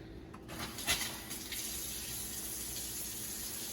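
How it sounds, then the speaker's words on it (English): Water runs from a faucet into a temporary kitchen sink. It opens with a short gush and a few knocks, then settles into a steady, even stream with no talking. "water's on."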